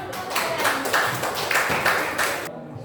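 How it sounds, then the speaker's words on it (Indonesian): A group of children clap their hands together in a burst of applause, steady and fairly loud, stopping abruptly near the end. "tepuk tangan buat teman-teman"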